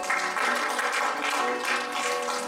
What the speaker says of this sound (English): Give Lord a hand clap of praise.